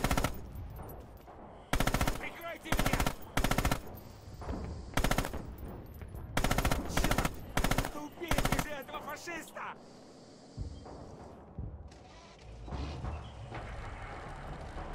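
An MG-34 machine gun in Red Orchestra 2 fires in repeated sharp bursts of rapid shots, loud and close, separated by short pauses with quieter battlefield noise and faint distant gunfire between them.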